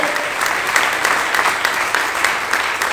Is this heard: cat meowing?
no